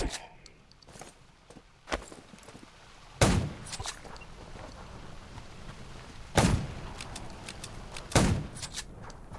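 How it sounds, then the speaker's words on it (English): A few sharp, loud gunshots ring out at irregular intervals over a low, rustling background, in the zombie survival video game Undawn. "Gunshots will attract more."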